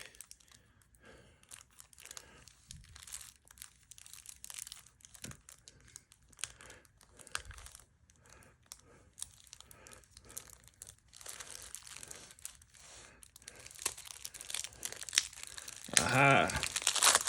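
Plastic wrapping being crinkled and torn off a Mortal Kombat Universus card game starter deck, with close, intermittent rustling and crunching that grows louder toward the end, mostly alone.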